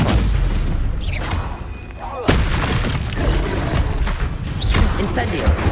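In Hogwarts Legacy, a Stupefy spell lands as a series of heavy booming impacts and crashes, loud and close, with voices in the mix of the game action.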